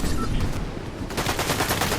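Fortnite gunfire rings out in dense, rapid bursts, with sharp repeated shots running through the second half over busy game noise.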